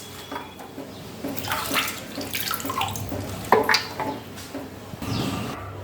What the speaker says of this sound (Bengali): পালংয়ের শীষগুলো ভালো করে ধুয়ে নিচ্ছি